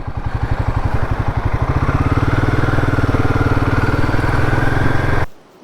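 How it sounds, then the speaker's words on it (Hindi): A motorcycle engine chugs at a steady, loud, close idle with a rapid regular thump, revving slightly before cutting off abruptly near the end as the bike is moved and parked on a muddy road. "बाइक कहीं आगे साइड में खड़ी करते हैं"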